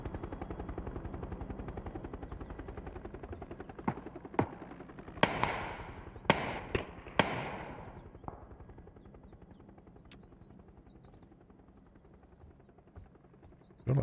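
Gunfire in PUBG during a battle royale match: several sharp shots and short bursts ring out at moderate distance over a low steady engine drone, with a final shot at the end.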